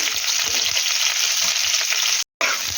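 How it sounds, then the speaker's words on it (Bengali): Pumpkin and sweet potato frying in oil with five-spice seasoning for neem sukto, a loud, dense, continuous sizzle close by, broken by one brief silent gap. "এটাকে একটু ভেজে নিই"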